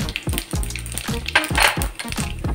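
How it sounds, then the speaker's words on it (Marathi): Cumin seeds sizzle in hot ghee as a tempering for lasooni palak, a steady close crackle with small repeated pops and spits, alone with no voices. "आता जिऱ्याची फोडणी देऊया आपण. फोडणीसाठी थोडंसं जिरं टाकले"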